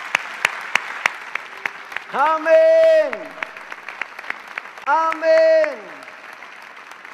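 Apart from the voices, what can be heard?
church congregation applauding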